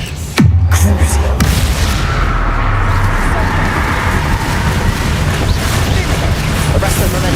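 A Crucio spell in the Hogwarts Legacy video game, a sharp descending whoosh into a heavy boom, then a loud sustained rumbling roar with hiss lasting several seconds, close and dense.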